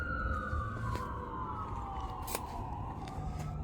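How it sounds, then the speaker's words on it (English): Emergency vehicle siren wailing outside during pickup truck fender work, a steady gliding tone that slowly falls in pitch, heard continuously over a dull background with a few sharp clicks and no talking. "My gosh, these sirens are ruining my video."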